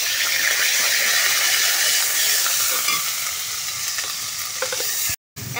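Onion and garlic frying in hot oil in a wok, giving a loud, dense, hissing sizzle that holds steady for about five seconds before a brief sudden silence, no voices.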